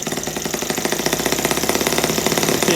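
A Stirlingkit N12b model engine runs with the throttle opened up, giving a steady, loud mechanical chugging with a fast, even pulse of knocking beats that holds throughout.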